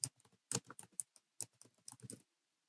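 Quick bursts of typing on a computer keyboard, close and crisp, the key clicks falling in short irregular clusters with brief pauses between, then stopping.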